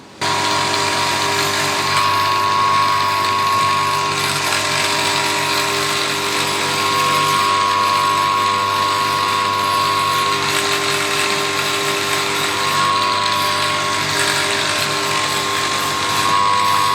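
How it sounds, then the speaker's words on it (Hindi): Small grinder finishing four drilled holes in a sandal sole, a steady loud whirring drone that runs the whole time with brief higher tonal whines recurring now and then. "ये जो ग्राइंडर है इससे अभी हम इन होल्स की फिनिशिंग करेंगे"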